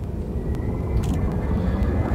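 A spaceship engine in Elite: Dangerous pushed to full throttle gives a loud, steady low roar and rumble, with a few faint clicks over it and no talk.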